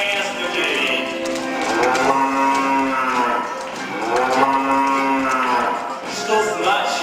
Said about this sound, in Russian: с утра поют коровы окрестных деревень